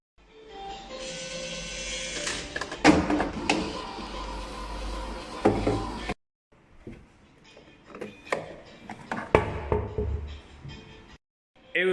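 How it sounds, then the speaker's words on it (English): A medicine vending machine whirs and clatters mechanically as its bottom conveyor belt carries boxed medicine to the pickup slot, with knocks and rattles, a short pause, then another round of motor and thumping noises. "At the bottom of the machine, there is a conveyor belt. It will deliver the medicine balls to the pickup place."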